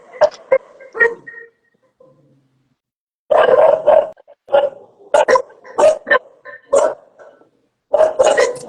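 A dog barks in short, loud bursts, some in quick pairs, with brief pauses and a quiet stretch between them.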